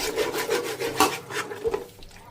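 Spoon scraping and stirring through curd mixed into biryani masala in a cooking pot, a steady rhythmic rasping of about eight strokes, close and fairly loud, fading off at the end.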